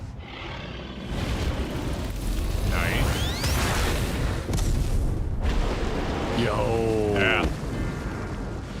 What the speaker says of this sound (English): Good explosion.